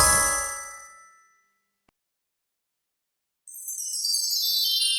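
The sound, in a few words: genie magic sound effect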